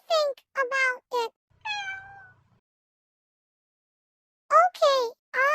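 Marco the cat meows in a quick run of several clear, close calls, then gives a softer drawn-out mew, falls silent, and resumes with two or three more loud meows.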